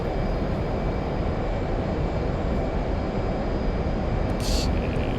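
A Boeing F/A-18 Hornet jet engine in the DCS World flight simulator gives off a loud, steady, broadband roar with a faint high whine, unbroken throughout, and a brief higher burst near the end.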